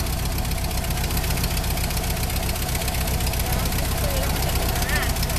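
Ford Model T engine running steadily while driving, a close, constant rhythmic chugging and knock with rattling vibration throughout, as people talk over it.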